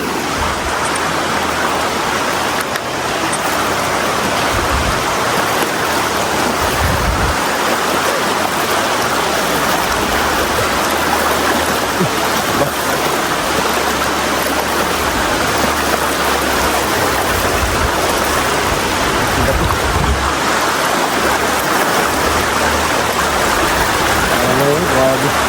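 A wide river rushes steadily around people wading across, a loud, continuous broadband wash of flowing water with occasional low splashes and voices under it.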